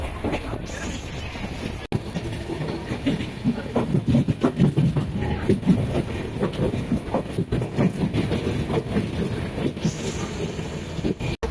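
A Nellai Express train rumbles steadily along the tracks in Tamil Nadu, with rhythmic clacking of wheels over rail joints and wind noise throughout, loud and continuous.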